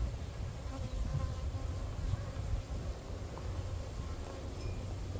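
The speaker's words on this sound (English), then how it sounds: "this bee right here wants to get rid of this carcass." Bees buzzing around a Layens hive, a steady dense hum close by, continuous and fairly loud outdoors, with light low rumble beneath.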